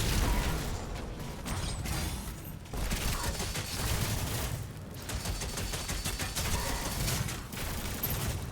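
Dense, continuous gunfire from DOOM The Dark Ages, a steady loud barrage of overlapping shots and mechanical weapon noise running without pause, with no voices over it.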